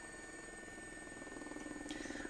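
A helicopter in Flight Simulator, its steady rotor drone and whine holding at a constant level, with the blade thump growing slightly more pronounced toward the end.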